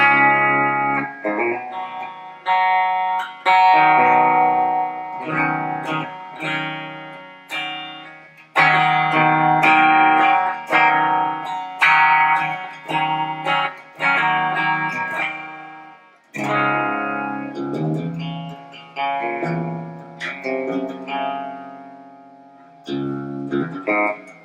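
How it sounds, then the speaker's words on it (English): Electric guitar played through an EVH 5150 III EL34 50-watt amp with hall reverb, loud distorted chords and riffs in bursts with ringing tails and short pauses, no talking. "And that's of course with hall reverb on."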